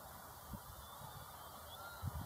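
Widgeon ducks calling faintly in the distance, a few soft honking notes over a quiet background hiss.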